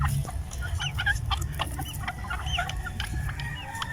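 Many backyard chickens cluck and chirp together in a busy, overlapping flock, close by and continuous, with a low rumbling background.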